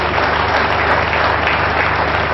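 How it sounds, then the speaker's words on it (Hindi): Dense, steady applause fills the hall at a national awards ceremony, many hands clapping continuously and loudly with no break. "हम सभी की तरफ से जोरदार तालियां"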